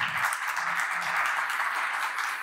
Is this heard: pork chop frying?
no